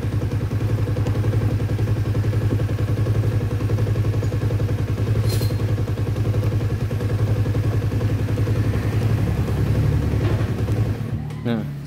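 Honda CB150R motorcycle engine idling close by, a steady loud low throb that continues evenly before cutting off abruptly near the end.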